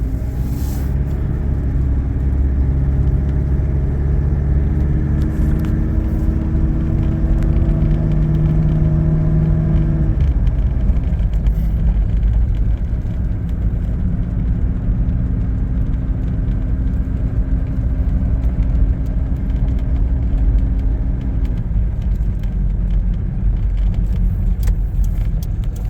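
A 1992 Mitsubishi Pajero turbo diesel drives along, its engine a steady loud drone with rising and falling gear pitches and a clear shift near the middle, heard from inside the cab.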